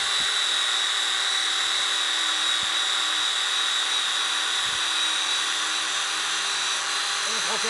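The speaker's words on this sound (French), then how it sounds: "ma perceuse électrique, qui met une brosse de fer dans le bout" An electric drill fitted with a wire brush whines steadily at high pitch while sanding wrought iron, spinning continuously without pause, loud and close throughout.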